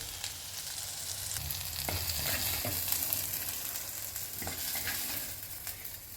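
Ingredients for a green turkey berry chutney sautéing in ghee give off a continuous close sizzle, broken by a few light scrapes of a stirring spoon, with no voices.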